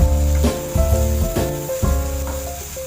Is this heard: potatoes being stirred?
yes